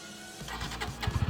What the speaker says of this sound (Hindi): सिंगल अटेम्प्ट में स्टार्ट हो गई पल्सर